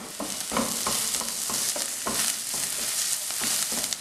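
Onions sautéing in a pan for a potato curry give off a steady, dense sizzle, broken by regular scraping knocks from stirring about twice a second, close up with no talking.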